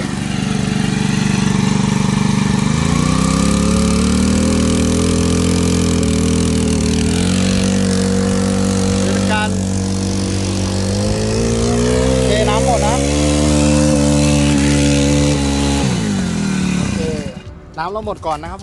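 A Honda GXH50 four-stroke 50cc engine drives a boat-mounted water pump, running loud and close as a steady buzzing drone that shifts pitch a few times before cutting off near the end; someone talks over it.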